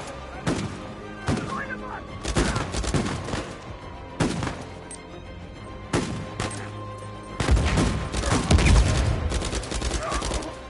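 Shootout gunfire in Uncharted 4: bursts of automatic and single shots arrive in clusters, loud and close, with a dense heavy volley near the end.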